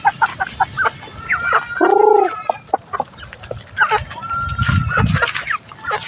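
Backyard chickens cluck and chatter close by, with a short drawn-out call and a stretch of scratching and rustling, under scattered bits of nearby talk.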